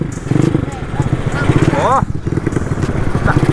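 Choppy, revving engine of a racing-spec Yamaha Mio motorcycle, uneven and throttling up and down close to the microphone, with someone talking excitedly over it.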